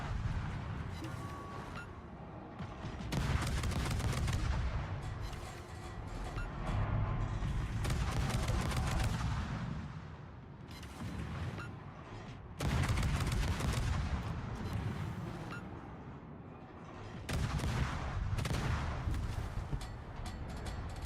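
Warship guns firing over and over in World of Warships, the tier 3 cruiser St. Louis, with dense booming salvos that swell and fade in repeated waves, nearly continuous and loud across the whole stretch.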